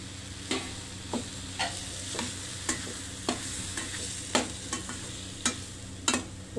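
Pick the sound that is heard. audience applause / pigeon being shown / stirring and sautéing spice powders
stirring and sautéing spice powders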